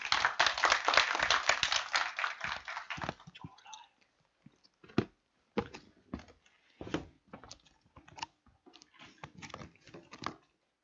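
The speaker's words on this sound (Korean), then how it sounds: "데밋의 발표자를 큰 박수로 환영해 주세요" An audience at a project presentation event claps loudly in a dense burst of applause, which thins over a few seconds into scattered individual claps before fading to near silence.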